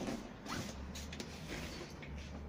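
A stroller canopy zipper on a Maxi-Cosi Zelia is pulled open in a few quick, raspy strokes, close and fairly quiet.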